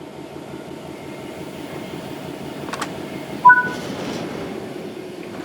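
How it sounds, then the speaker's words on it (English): British Rail Class 66 six-axle diesel-electric freight locomotive in a train simulator game: steady low rolling rumble of wheels on track with rhythmic clatter, a brief high squeal and a short metallic clunk midway. "the British Rail Class 66 is a 6-axle diesel-electric locomotive, used primarily for freight operations in the UK"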